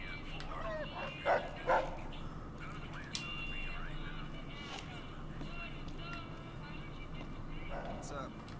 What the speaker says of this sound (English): That's a cyborg dog.